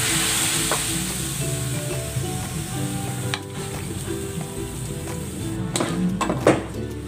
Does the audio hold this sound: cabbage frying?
yes